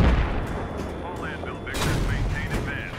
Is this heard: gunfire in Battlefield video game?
yes